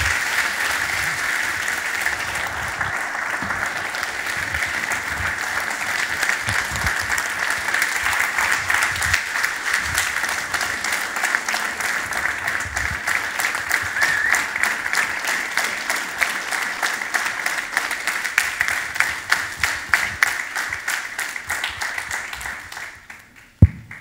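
An audience applauds to welcome Dr. Subramanya Swamy before his lecture, a steady roomful of clapping sustained for over twenty seconds that gradually thins into scattered claps before stopping.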